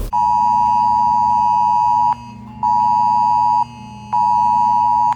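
Emergency alert tone sounding on a mobile phone during a regional warning-system test: loud, steady electronic beeping in three long pulses of about two seconds each, separated by brief silences, with no voices.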